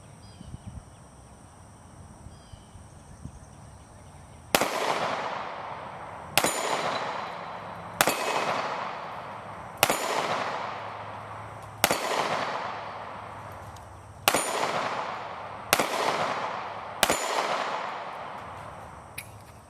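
An S&W Shield .45 ACP pistol fires eight shots in a steady rhythm at a steel MGM spinner target in a backyard range from 15 yards, each sharp bang paired with a ringing metallic clang that rings out before the next.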